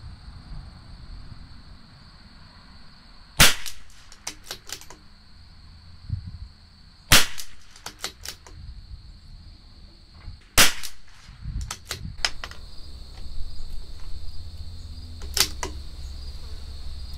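CZ 457 LRP rifle with an IBI barrel firing Federal Gold Medal Target rounds at a range, four sharp, loud single shots spaced a few seconds apart over steady outdoor background noise and insect hum.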